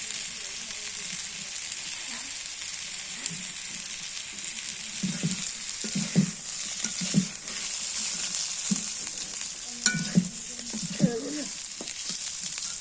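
Kochu loti (taro stolons) fry in oil with a loud, steady sizzle, broken by scraping stir strokes and a few clinks, with faint voices near the end.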